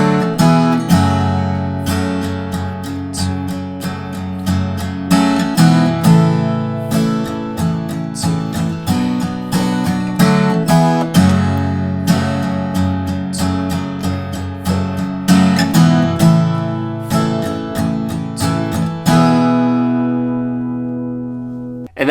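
An acoustic guitar plays the bridge of a song as a steady stream of strummed chords with regular rhythmic attacks, close and loud, ending on a ringing sustained chord.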